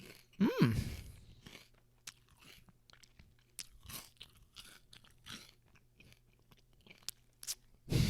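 Close, loud crunching bite into crisp, sweet food at the start, followed by scattered wet chewing and mouth sounds, with a final crunch near the end; no talking.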